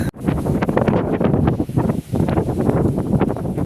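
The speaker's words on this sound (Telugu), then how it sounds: "విపరీతమైన గాలి ఇప్పుడు గట్టిగా వస్తుంది వర్షం గట్టి కూడేస్తుంది" Very strong wind gusting hard during a heavy storm with rain in Kuwait, a loud continuous roar with surging gusts and buffeting against the microphone throughout.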